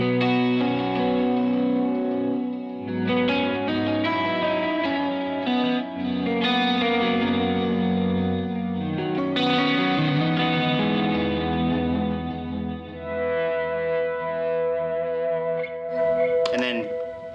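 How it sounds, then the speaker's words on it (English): Electric guitar run through a chorus pedal on a pedalboard, playing shimmering sustained chords and melodic lines with a warm, swirling modulation, loud and steady for about seventeen seconds with no talking. "Then when I throw chorus on with that,"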